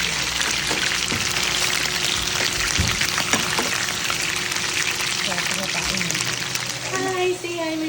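Food frying in a pan for a Filipino munggo (mung bean) dish, a steady crackling sizzle running throughout with clatter and a voice talking over it.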